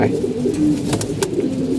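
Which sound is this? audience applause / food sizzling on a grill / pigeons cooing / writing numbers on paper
pigeons cooing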